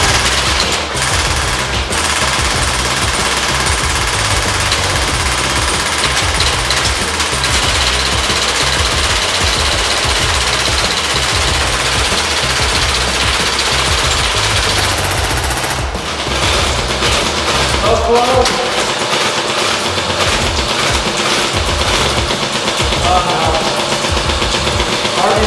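Airsoft guns fire rapid, loud bursts at Halloween pumpkins in a continuous rattling barrage, like machine-gun chatter, pausing only briefly near the end before the firing resumes.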